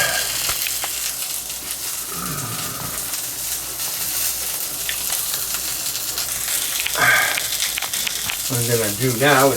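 Tofu frying in a pan, browning on one side, gives a steady loud sizzle throughout, with occasional scrapes and a person talking over it.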